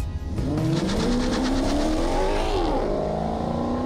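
A Maserati GranTurismo accelerates hard on a track, its engine loud and close, climbing in pitch through the gears with a brief dip at a shift, then pulling on.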